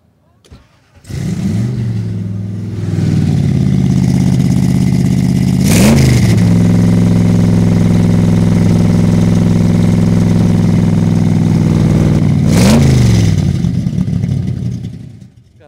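A car engine cranks and catches at a car show, then settles into a deep, throaty idle with a shaking rumble, broken by two sharp revs that rise and fall back, loud and close throughout.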